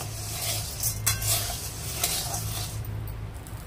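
A spoon stirs fried sago kheer ingredients in a kadhai, giving soft scraping and clinking against the pan with a faint sizzle underneath. No speech is heard.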